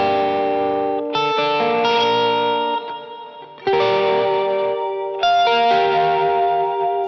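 Electric lead guitar played through modulation and reverb effects rings out in sustained, shimmering phrases, with several new notes and chords struck over about seven seconds and a brief dip in volume midway, no voices present.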